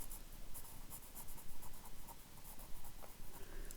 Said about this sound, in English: So we'll just sketch around there, just some shading.